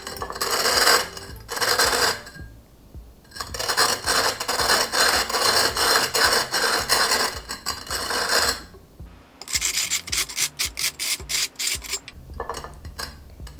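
Glass bottle top rubbed flat on wet sandpaper in steady back-and-forth rasping strokes, loud and close, with a short pause near the middle and quicker, choppier strokes toward the end.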